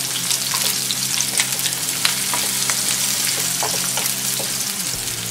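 Onions frying in oil in a pan, a dense continuous sizzle with crackles and pops throughout, close and fairly loud with no talk.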